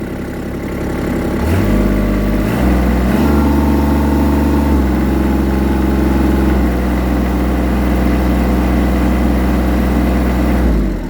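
A Kubota L3800 tractor's diesel engine runs close by, its revs stepping up in a few distinct jumps, then holding at a steady higher hum before dropping slightly near the end; no talking.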